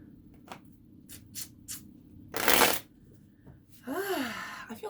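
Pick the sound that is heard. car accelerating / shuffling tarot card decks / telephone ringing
shuffling tarot card decks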